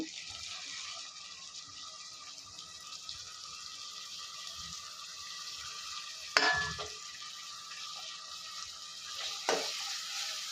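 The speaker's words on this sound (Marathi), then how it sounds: "आपण फ्राय करायचं आहे हलवत राहायचं आहे" Tomatoes frying in a pan while being stirred for chakolya, a steady soft sizzle with two brief scraping stir knocks, fairly quiet and close, no talk.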